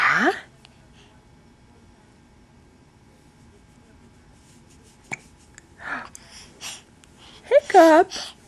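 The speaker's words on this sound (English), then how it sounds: "Hiccup." A baby gives a short, squeaky hiccup near the end, a brief voiced catch close to the microphone after a long stretch of quiet room sound with a few small noises.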